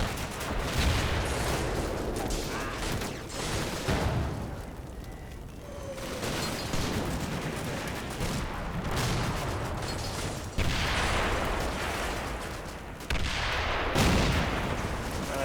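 Mortar rounds and shelling in the WWII strategy game Combat Mission Battle for Normandy, with repeated heavy booming impacts and rumbling blasts arriving at irregular intervals over a dense battle din.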